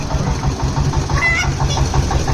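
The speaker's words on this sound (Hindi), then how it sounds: "ये आयशर का ट्रैक्टर है जो मैं आपको दिखा रहा हूँ" An old Eicher diesel tractor engine idles nearby in a village with a steady, knocking chug throughout, loud and continuous with no voices.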